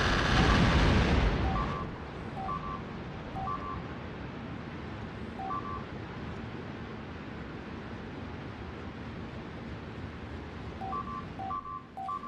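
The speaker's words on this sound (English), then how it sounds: "wait for the shooting, wait for the shooting. Shooting." Turrets fire in a space-factory game under heavy rumbling noise: a loud blast at the start gives way to a constant roar, with small repeating electronic beeps scattered throughout.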